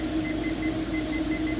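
A kitchen timer is set for twenty minutes while Mexican rice simmers on the stove. It gives a run of short, regular electronic beeps in quick succession, fairly close and clear over a low background hum.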